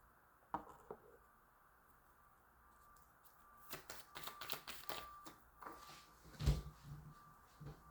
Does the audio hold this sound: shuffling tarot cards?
yes